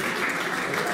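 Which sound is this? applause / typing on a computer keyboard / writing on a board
applause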